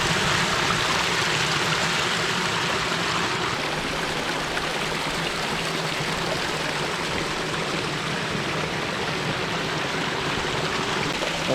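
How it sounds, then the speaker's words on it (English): A backyard waterfall at a Leawood, Kansas home spills over rocks and splits around both sides of a small chasm, making a steady, close rushing splash with no pauses. "the way the water just kind of spills around both sides of this"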